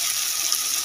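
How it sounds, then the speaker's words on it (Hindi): A glass of water pours into a cooking pot of potato curry in a steady, hissing stream, close and continuous, briefly and without pause. "शोरबा बनाने के लिए 1 गिलास पानी डालेंगे"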